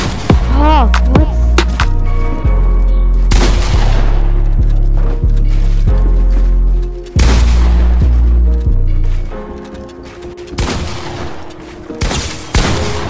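Video game gunfire crackles in loud, sharp bursts and single shots, with heavy booming impacts spread through the passage and faint talk now and then.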